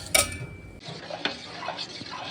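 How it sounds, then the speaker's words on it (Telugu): A thickening halwa mixture is stirred in a pan over low to medium flame, giving a few light scraping and clinking strokes of the spoon against the pan, close and brief. "ఫ్లేమ్ మనకి లో టు మీడియం మధ్యలో అడ్జస్ట్ చేసుకుంటూ ఇలా కలుపుతూ ఉండాలి"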